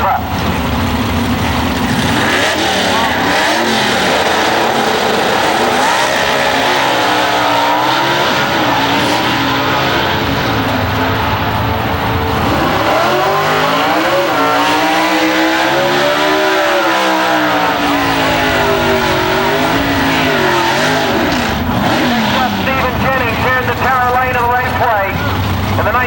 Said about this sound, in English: George Houston in the WTQR Lane, 4-speed Chevy Nova taking on Danny Carr from Florence, Alabama on the Tower side